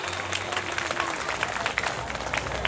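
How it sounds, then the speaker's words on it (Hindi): Applause from an audience at a stage event honouring Babasaheb Ambedkar, steady dense clapping throughout with some faint voices mixed in, moderately distant and even in level. "एक बार ताली बजा के आपके लिए।"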